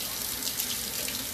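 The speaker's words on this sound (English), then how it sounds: "so I'm going to just go ahead and wash this off." Tap water pours steadily into a sink while something is rinsed off, a close, even hiss and splash with no break.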